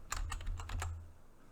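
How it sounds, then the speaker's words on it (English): Rapid keystrokes on a computer keyboard, a quick run of about eight crisp, close clicks followed by quiet. "I'm gonna start typing right there"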